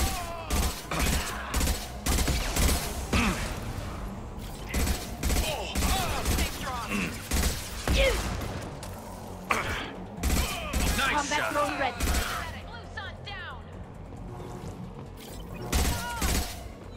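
Armor-piercing rounds fire in rapid bursts in Mass Effect 2, a loud and nearly continuous volley of sharp shots with mechanical clatter, with voices speaking over the combat.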